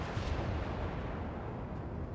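Warship guns fire in World of Warships, with the Kiev destroyer nearby, heard as a dense, low, continuous rumble of distant heavy shots and booming that holds steady throughout.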